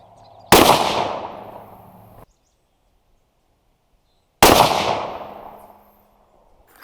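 Two sharp rifle shots from a Ruger American Ranch in 5.56 NATO firing 55 grain Hornady VMAX loads, each a loud close crack with a long decaying echo, spaced about four seconds apart and with no talking.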